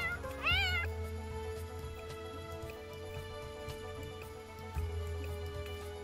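A cat in The Sims 4 lets out one clear rising-and-falling meow near the start, over a steady game music bed that continues to the end.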